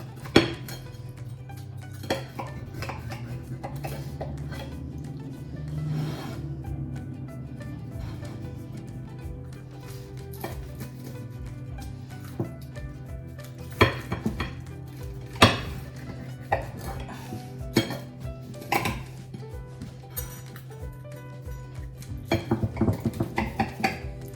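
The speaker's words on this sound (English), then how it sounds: "I carefully take my knife and cut it into little wedges." A knife cuts a chicken quesadilla into wedges on a plate, giving repeated clinks and scrapes of metal against the plate over a low hum, with scattered louder taps and no voices.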